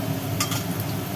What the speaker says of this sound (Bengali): তেলের মধ্যে পড়ে গেল মাংসের আলু আলুগুলো ভাজি হবে